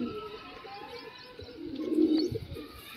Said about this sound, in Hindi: पता नहीं किसका कबूतर बैठा है ये, और काफी देर से बैठा है जी यहाँ पे